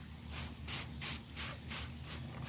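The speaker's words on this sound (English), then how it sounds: "This I'm going to spray the radiator." Cleaner sprayed onto the radiator fins of a dirty window air conditioner, heard as about six evenly spaced hissing bursts close by, each lasting roughly a quarter second, with no talking.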